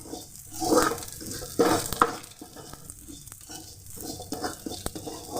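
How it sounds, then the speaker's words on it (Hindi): Edible gum (gond) fries in ghee while a spoon stirs it, giving a close, continuous sizzle broken by scraping strokes and soft clinks against the pan. "गोंद बहुत जल्दी चिपकता है तो मैं इसे अच्छे से चला लेती हूँ।"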